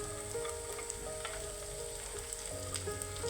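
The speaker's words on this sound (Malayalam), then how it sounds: "നമ്മളുടെ ഉരുളക്കിഴങ്ങ് ഇതിനകത്തൊട്ടിട്ട് നന്നായി മിക്സ് ചെയ്യുക" Potatoes are stirred into frying masala with curry leaves in a pan for Kerala-style potato mezhukkupuratti, giving a soft, even sizzle with occasional light spatula clicks; no speech.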